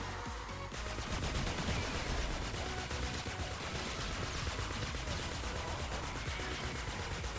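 A gun in the video game Fortnite Save the World fires without reloading, a dense continuous rattle of rapid shots that stays loud and unbroken for several seconds, with no voices over it.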